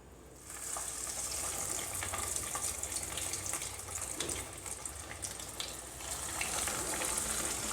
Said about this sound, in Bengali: এখন কাটলেটগুলো ফ্রাই করার জন্য কড়াইতে তেল গরম করে নিয়েছি।